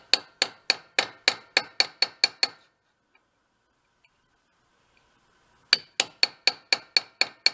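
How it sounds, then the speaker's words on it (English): Sharp metallic taps strike a Honda 4x4 ATV engine part in two quick, evenly spaced bursts of about nine to ten hits each, separated by a few seconds of near silence. "I gotta tap on that a little bit"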